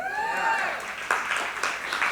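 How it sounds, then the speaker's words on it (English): Audience applause during a church tribute, a short burst of clapping with a few sharper claps, heard alongside a voice at the start. "I knew that would get applause."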